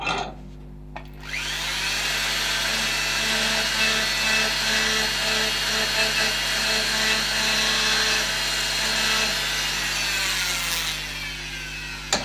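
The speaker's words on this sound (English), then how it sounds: "So we're going to use this as a bit of a little planer and see what we can do with this." A wood carving tool works as a small planer along a carved Black Labrador walking stick, giving a steady, close, continuous scraping and whirring that runs almost the whole time after a brief quieter start.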